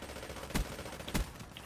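Two sharp, loud gunshots about half a second apart ring out in Black Ops 3, a first-person multiplayer shooter, over a low hum of game ambience without speech.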